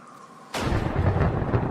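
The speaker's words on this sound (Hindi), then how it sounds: "तभी बिजली कड़कती है।" A sudden, loud thunderclap breaks a near-silence during lightning in a spooky witch story, then rolls on as a heavy, sustained rumble.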